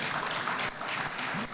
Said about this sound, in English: I think we need to give them a round of applause for that.